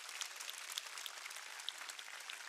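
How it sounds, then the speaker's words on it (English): A crowd claps steadily throughout at an outdoor statue unveiling, dense and even, with no voices over it. "Can we all just give a round of applause for the family for being here?"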